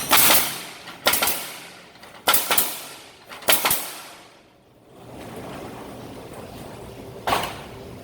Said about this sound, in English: you must hold this trigger on the gantry for the guns to fire